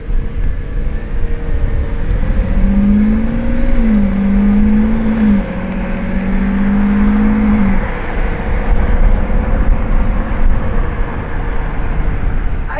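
An orange Lamborghini Revuelto drives past with a steady engine drone, a clear tone rising and dipping in the middle of the pass over continuous road and traffic noise.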